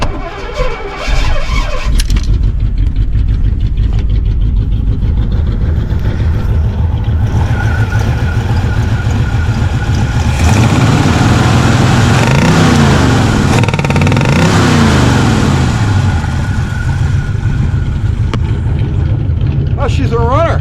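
A 1967 Chevy engine cranks and catches, settling into a loud, rough idle before being revved up and down, then easing back to a steady run.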